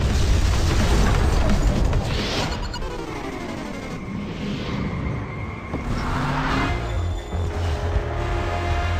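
An explosion in the PS3 racing game MotorStorm: Apocalypse rocks the road, a loud dense boom and rumbling crash amid roaring vehicle engines and debris, sustained for several seconds.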